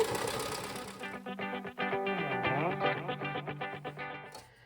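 A sewing machine stitches a pocket in a fast, even run of rapid mechanical clatter after a brief start, close and fairly loud, stopping abruptly at the end.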